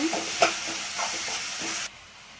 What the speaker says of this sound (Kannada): ಸ್ವಲ್ಪ ಶುಂಠಿ, ಹಸಿಮೆಣಸಿನ್ಕಾಯಿ, ಬೆಳ್ಳುಳ್ಳಿ ಹಾಕಿ ಪೇಸ್ಟ್ ಮಾಡ್ಕೊಂಡಿದ್ದೆ, ಅದನ್ನು ಹಾಕಿ ಫ್ರೈ ಮಾಡ್ತೀನಿ